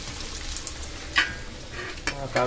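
Cabbage vadas dropped into hot oil, a steady crackling sizzle with brief bursts of spatter as pieces go in, close and moderately loud.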